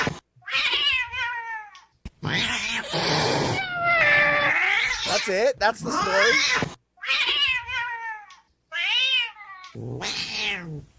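A cat meows repeatedly in long, drawn-out, wavering yowls, close and loud, with short pauses between cries and a voice speaking briefly among them.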